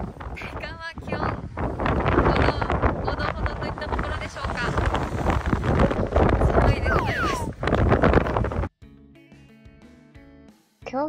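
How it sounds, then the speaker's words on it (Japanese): Strong wind on the Shiretoko Pass, Hokkaido, buffets the microphone with heavy, roaring gusts under a voice, then cuts out abruptly near the end, leaving only faint background sound. "このように風がとても強いです。"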